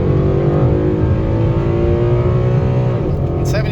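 A 2013 Mustang GT with a 6R80 automatic and cold air intake revs hard toward 7,500 RPM from inside the cabin, a loud, steady engine drone with rising harmonics that dips briefly near the end as the gear changes.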